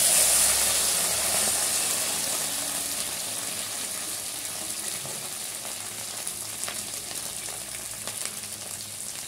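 Broad bean seeds fry in oil in a kadhai for a dry fish curry, a steady bright sizzle and hiss that starts loud and eases slightly, with faint stirring clicks and no talk.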